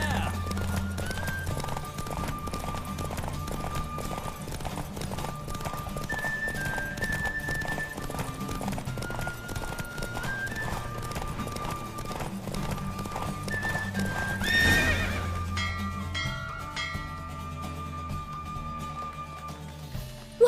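A horse gallops in The Witcher 3 video game, rhythmic hoofbeats under a steady musical score, with voices talking over the ride and a swell near the end.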